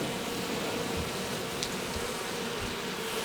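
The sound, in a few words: drone honey bees buzzing at hive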